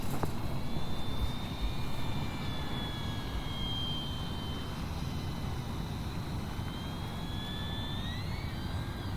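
An E-Flite RV-7 electric RC model airplane on a 4S battery flies overhead, its motor making a steady whine that slowly rises and falls in pitch as it passes, heard over broad outdoor wind rumble with no talking.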